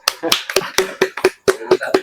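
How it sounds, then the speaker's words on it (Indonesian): About nine sharp, evenly spaced hand claps ring out close by in a steady rhythm during a talk-show conversation, with brief gaps between them. "Tepuk tangan dulu."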